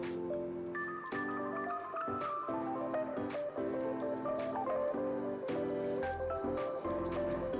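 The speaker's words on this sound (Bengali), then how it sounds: "এবার আমি এর সঙ্গে মাছগুলো দিয়ে দেবো এর ভিতরে" Pabda fish going into a simmering mustard and poppy seed gravy, with wet squishing and dripping sounds over a steady tonal music bed, close and fairly even throughout.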